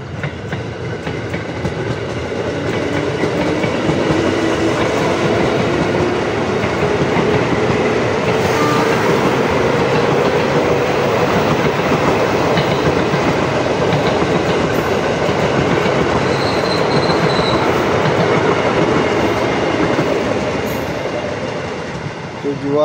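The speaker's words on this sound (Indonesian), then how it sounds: "Ada kereta nih dari bawah, dari arah stasiun Pondok Jati ya." A KRL commuter train rolls past continuously near Jatinegara station in Jakarta, a loud steady rumble with rhythmic clatter of wheels on rails throughout.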